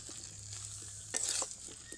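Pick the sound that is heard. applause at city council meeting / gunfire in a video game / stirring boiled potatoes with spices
stirring boiled potatoes with spices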